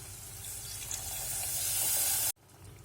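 Tamarind water is poured into a clay pot of Kerala-style rasam, making a continuous hissing splash that swells over about two seconds and then stops abruptly.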